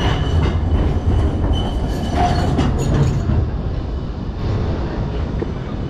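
A tram rolls along a street in Sofia, Bulgaria, its steady low rumble and rail noise filling the clip with a faint wheel squeal partway through, loud and close with no talking.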